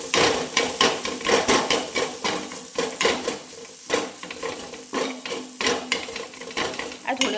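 Bhujia is stirred and mixed in a pan with garam masala and coriander leaves, a spatula scraping and clinking against the metal in quick, repeated strokes over a light sizzle, close and fairly loud.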